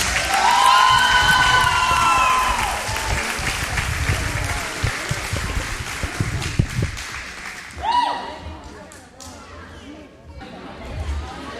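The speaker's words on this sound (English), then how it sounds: "Please give our seniors a round of applause." Crowd applauding and cheering for the senior players at a Lindsay Lane Christian Academy varsity girls volleyball game in a gym, sustained loud clapping with scattered whoops that thins out midway, voices chattering underneath.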